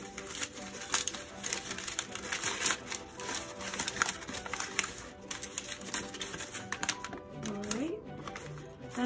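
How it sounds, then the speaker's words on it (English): A sheet of paper is being crumpled up by hand during a classroom watershed model demonstration, giving a continuous close crinkling and crackling for several seconds alongside a speaking voice. "is crumble up this first piece of paper."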